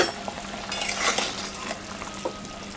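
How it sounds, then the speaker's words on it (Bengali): Katla fish goes into a simmering curry in a pot, with a short burst of bubbling, sizzling hiss and a clink of utensils against the pan. "এখন আমি মাছটা দিয়ে দেব"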